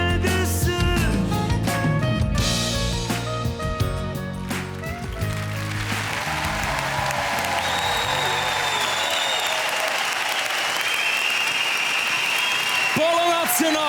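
Applause for a Swiss singer at a concert: the song's band music plays for a few seconds and then fades into loud, sustained clapping and crowd noise that fills the rest.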